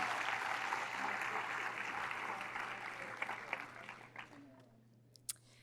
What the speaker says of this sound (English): Give her your biggest round of applause.